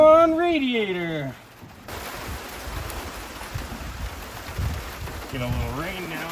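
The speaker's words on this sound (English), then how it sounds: "Get a little rain now." Steady broadband hiss of rain falling on and around a 12-valve Cummins diesel vehicle, with a person's voice speaking briefly at the start and again near the end.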